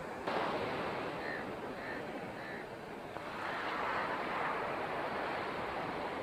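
Ocean surf washes onto the beach at Pulicat Lake as a steady broadband roar, heavily mixed with wind buffeting the microphone. Faint voices are heard briefly under the noise.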